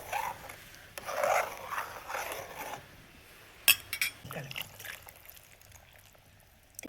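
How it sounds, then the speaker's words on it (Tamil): Water poured into a pot of coconut prawn curry in a short, splashy burst, followed by quieter scraping and clinking of a utensil against the pan. "குழம்புக்கு தேவையான தண்ணி ஊற்றியாச்சு"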